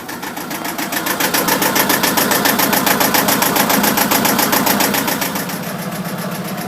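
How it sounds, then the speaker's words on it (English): A Shannon 28 cutter-rig sailboat's inboard engine runs steadily at idle, a loud, close, even mechanical chatter with rapid regular pulses that eases slightly in level near the end. "Oops, I better start the engine again."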